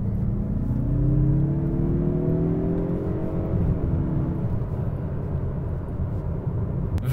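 A 2024 Mazda CX-30 Turbo accelerates hard in second gear, its engine note climbing steadily in pitch as it pulls through a tunnel. The loud, close whir is heard alone, with no talking over it.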